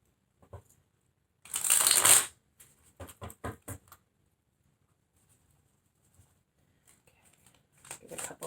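Tarot cards shuffled by hand in short bursts: a dense riffle, then a quick series of soft slaps and snaps, quiet pauses between and another riffle at the end, close up with no talking.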